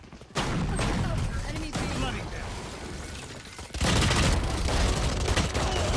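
Rapid video game gunfire rattles in dense, continuous volleys, loud and close. It cuts out briefly near the middle, then resumes more intensely, with a voice talking over parts of it.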